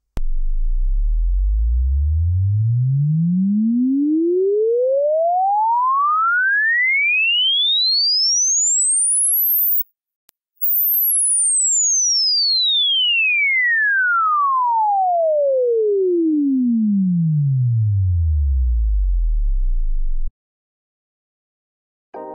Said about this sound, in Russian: Перед использованием светодиодного анализатора спектра проверим его работоспособность при помощи звуковых частот